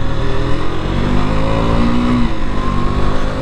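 A 2022 KTM RC 200 motorcycle engine revving hard while riding on a broken road, loud and close with a continuous buzzing drone and rising pitch, no voices.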